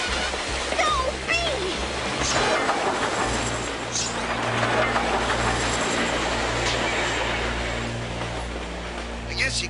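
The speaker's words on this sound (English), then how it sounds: "Ace, the trains. They're seconds away." Cartoon trains roar past in a loud, continuous rumble with rattling clatter and a few high whistle-like tones, sustained for the whole stretch.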